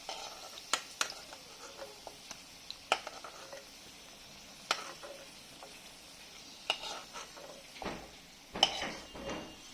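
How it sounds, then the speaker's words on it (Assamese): Potatoes frying in hot oil in a pan for chicken dakbanglow, a soft continuous sizzle broken by sharp clinks and scrapes of a spatula stirring against the metal pan. "আলুখিনিও মই ধুনীয়া এটা কালাৰ অহালৈকে ভাজি ল'লোঁ।"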